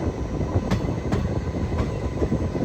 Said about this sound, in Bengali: এদিকে আমাদের ট্রেন চলে যাচ্ছে